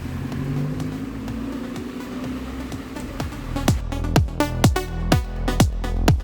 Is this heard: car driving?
yes